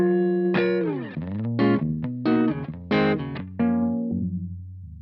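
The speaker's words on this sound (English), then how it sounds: "Currently, we're in low pass mode, which is going to allow low frequencies to pass while attenuating high frequencies" A musical tone passed through a NativeAudio Niisoo harmonic equalizer pedal set to low pass mode, giving a series of rounded, sustained notes with bright attacks and muted highs, played alone at moderate level.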